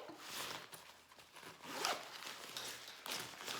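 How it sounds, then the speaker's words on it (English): A zipper on the interior pocket of a Lillebaby DASH baby carrier totepack is pulled open and closed in several quick, close rasping strokes, with no talking. "So your final pocket is going to be this interior zippered pocket."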